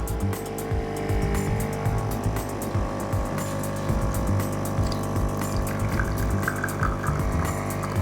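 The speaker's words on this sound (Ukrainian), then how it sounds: "І ви бачите, як вона варить еспресо." A Jura Ono home coffee machine brews espresso at close range, its pump buzzing steadily with a rhythmic pulsing chug and liquid gurgle throughout, no voices over it.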